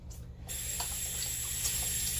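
Water runs from a kitchen tap while hands are rinsed, a soft continuous hiss of flow that starts after a brief pause and stays steady and fairly quiet.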